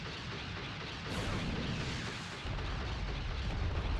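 Ship-mounted laser weapon firing in Space Engineers, a steady roaring, rumbling blast that swells louder partway through and keeps booming continuously.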